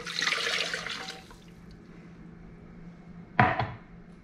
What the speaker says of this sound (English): I'm going to add the beef bone broth to the Instant Pot.